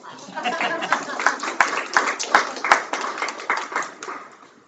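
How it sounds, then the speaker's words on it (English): A small group claps during a school district board of education meeting. Short, uneven bursts of hand claps pulse for several seconds, mixed with voices talking over them. "I feel like we should clap for you too, because it's exciting."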